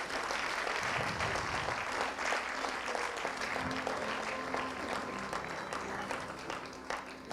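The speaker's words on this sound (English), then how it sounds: "they deserve a great deal of applause from you all" Audience applause in a hall, dense and sustained clapping from a large crowd that fills the whole stretch at steady loudness, with a few whoops mixed in.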